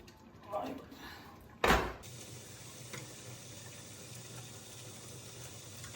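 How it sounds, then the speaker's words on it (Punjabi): Tap water pours steadily into a kitchen sink over a pot of homemade apple jam. A clunk comes first, then a constant soft hiss of running water, with a voice heard in the room. "ਹੁਣ ਇਹਨੂੰ ਆਪਾਂ ਠੰਡਾ ਕਰ ਰਹੇ ਆਂ ਸਿੰਕ ਤੇ ਰੱਖ ਲਿਆ ਪਾਣੀ ਥੱਲੇ"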